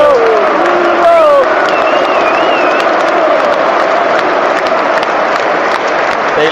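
Football stadium crowd at a Champions League night, Newcastle United against Athletic Bilbao, applauding as the captain is substituted: loud, steady applause and cheering fill the whole span, with a few whistles and shouts rising above.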